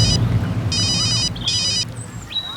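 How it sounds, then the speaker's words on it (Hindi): A telephone rings in bursts of electronic trilling, two long rings separated by a short gap, followed by higher chirping tones, all up close over a faint background hum. "Madam phone."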